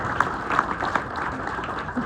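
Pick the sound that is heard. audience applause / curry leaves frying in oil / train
audience applause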